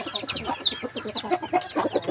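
Backyard chickens cluck busily in quick, overlapping bursts, close by and fairly soft, with no talking over them.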